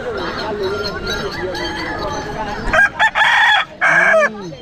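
A rooster crows loudly at a busy village livestock market in West Bengal where fighting cocks are sold, with several hoarse bursts near the end following a stretch of market chatter.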